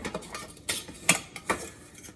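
Metal fork clinking and scraping against an Instant Pot insert and pot while chicken wings are lifted out, a few sharp close taps and scrapes in quick irregular succession.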